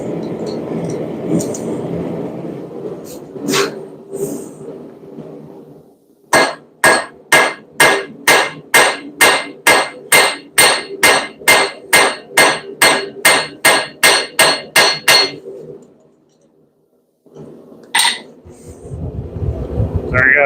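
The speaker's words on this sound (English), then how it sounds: "the half on, half off blows that I did to make this mounting tab" Hammer blows forge a metal mounting tab on an anvil, about twenty sharp ringing strikes in a steady even rhythm, loud and close, with a pause, then a couple more blows amid background rumble.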